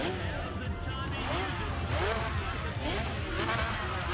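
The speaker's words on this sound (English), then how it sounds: "Those Porsches sound cool." A Porsche engine revving in the racing game Need for Speed ProStreet, a steady, loud engine roar with rising and falling pitch sweeps that carries on throughout, alongside talking.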